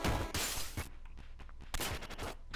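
Shotgun blasts fired in the video game Downwell, several loud, dense bursts in quick succession, heavy at the start and again near the end, with a quieter stretch between.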